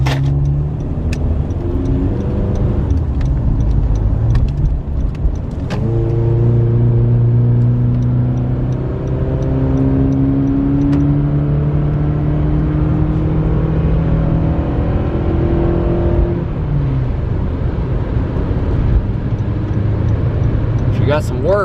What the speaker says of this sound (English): She got some whir in her.